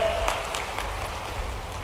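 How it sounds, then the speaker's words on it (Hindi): A crowd claps steadily in a dense, continuous patter at a chief minister's public event in Damoh, with no voices over it. "तालियां बजाएं"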